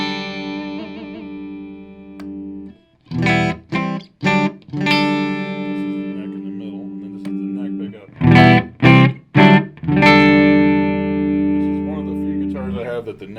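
An electric guitar played through its middle pickup rings out with sustained chords, broken by a few short plucked bursts and pauses, fairly clear and close.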